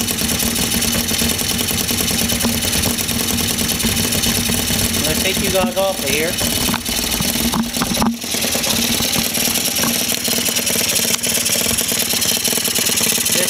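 A 50cc scooter engine fitted with a 70cc big bore kit, exhaust not fully reattached, idles steadily and close by with a constant buzzing drone, while someone speaks briefly over it.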